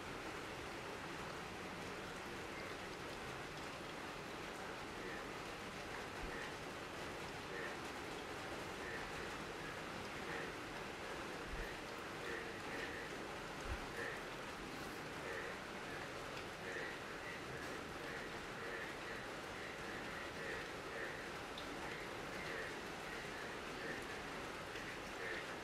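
Rain falls steadily outdoors as a continuous, even hiss with no break, with faint, intermittent chirps in the background.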